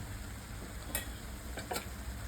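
Masala with red chilli powder, coriander powder and garam masala sautéing in a pan for matar paneer: a steady low sizzle with a few soft scraping stirs of a spoon, close and fairly quiet, no talk.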